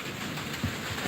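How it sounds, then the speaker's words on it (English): Rain falls on a hot day, making a soft, continuous hiss with a few faint pattering drops, low in level and without any talking. "it's raining, at the same time it's really hot"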